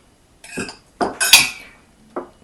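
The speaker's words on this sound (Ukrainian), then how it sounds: "Відправляємо все це в кастрюльку, наш перчик." Chopped peppers and garlic dropped into a saucepan: a few clattering knocks and a metallic clink of utensil on pot, close up, with short pauses between, no talk.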